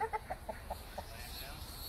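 A chicken in a coop clucks about six short, fairly loud times in the first second, then the clucks fade into a quiet background hiss.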